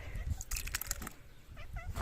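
A house cat meows at home around feeding time, with two short rising calls near the end over steady low background rumble and faint household noise.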